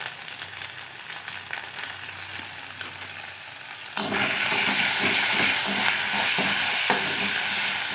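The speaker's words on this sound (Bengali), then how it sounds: "আদাটাকে খুব ভালো করে ভেজে নিতে হবে যাতে না কাঁচা গন্ধ ছাড়ে" Ginger paste with turmeric powder hits hot oil and erupts into a loud, steady sizzle, with scraping stirs over a quieter earlier stretch of pan noise.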